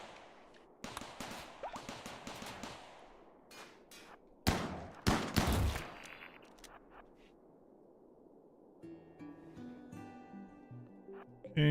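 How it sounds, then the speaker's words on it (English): Turret-on-turret gunfire in RimWorld: several sharp bursts of shots in the first half, with a louder cluster near the middle, before fading into quieter game ambience and soft tonal sounds. "So we hacked a turret somewhere. I think it's attacking another turret"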